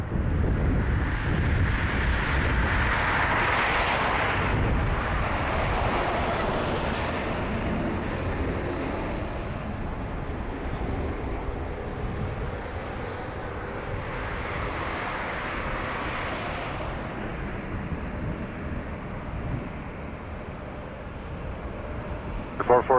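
An Air Canada Boeing 787-9 Dreamliner takes off from runway 05 at Toronto Pearson, a broad steady engine roar at some distance that swells and eases over the span, with radio voices talking over it.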